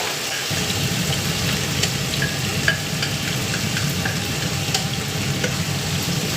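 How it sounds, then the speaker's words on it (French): Food browning in olive oil in a pan, a constant close sizzle with a low bubbling rumble and scattered light clicks, steady and fairly loud with no voices. "Donc ça risole dans de l'huile d'olive."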